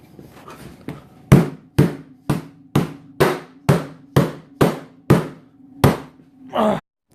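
Eleven sharp metallic hammer strikes on a crowbar ring out at a steady pace, each with a brief ringing tail, after a few lighter taps at the start, during a chainsaw tune-up.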